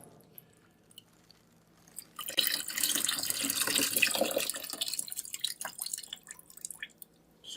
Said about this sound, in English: Okay, put some more water.